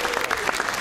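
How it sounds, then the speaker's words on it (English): Comedy club audience applauding a stand-up comic, a short burst of dense clapping that stays steady and moderately loud with no voices over it. "Round of applause."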